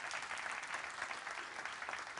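Faint, steady applause from an audience welcoming two researchers at a talk on Cassini imaging, a soft continuous patter of many hands with no voices over it.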